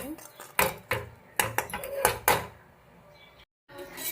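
A pot is set down in a kitchen while chicken curry is being made, giving several sharp clanks and clatters of cookware and utensils, close, with brief pauses between knocks and quieter handling noise.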